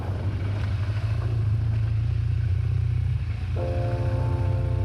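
A motorcycle on the move gives a loud, continuous low engine drone close by, with steady wind and road rumble and a faint tonal hum rising near the end.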